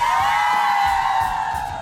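A studio audience of supporters cheering and screaming on an Indonesian TV cooking show, a dense sustained roar of shrill yells and whoops from many people, loud and steady, easing off slightly at the end.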